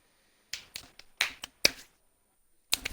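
Someone clapping hands close by in a few short irregular bursts, sharp and dry with gaps between, in a quiet room without voices.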